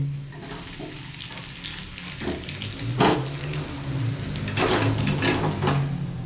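Spices for a phoron crackle and sizzle in hot oil for kacha aam sorse posto, a continuous close frying hiss that swells louder toward the end, with occasional clicks and stirring knocks.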